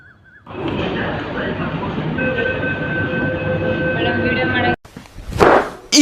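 A Bengaluru metro train arrives and runs steadily and loudly for about four seconds, with a sustained high whine over the rumble. It stops abruptly, and a brief burst of voices and clatter follows.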